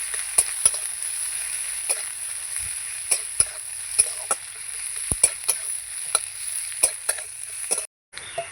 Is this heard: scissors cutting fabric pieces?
no